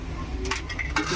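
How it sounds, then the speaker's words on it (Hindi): Roasted eggplants lifted from a pan onto a plate, a few light metallic clinks and scrapes of a utensil against cookware over a low kitchen background, close and brief. "अब इनको मैं निकाल लूँगी एक प्लेट में।"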